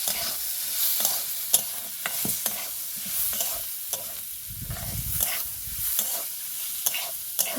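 Cumin and coriander powder stirred into a pan of frying lentil and spinach dal cooked village style: a continuous soft sizzle with repeated scraping clicks of the spoon against the pan, close and clear, no talk.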